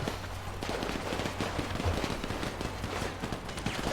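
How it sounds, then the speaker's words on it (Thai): Gunfire in the GTA V video game, a dense stream of rapid shots and bursts crackling continuously, fairly loud and unbroken, with no voices over it. "มันยิงกันแล้ว"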